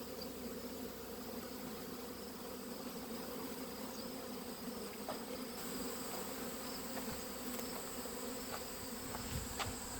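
A steady, low buzzing hum of many honey bees fills the air continuously, faint and distant, with occasional soft ticks and no voices.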